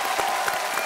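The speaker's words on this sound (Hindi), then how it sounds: "एक बार फिर तालियों के साथ" Studio audience applause at a televised Indian quiz show, a steady dense wash of clapping throughout with a few louder swells, sustained and fairly close.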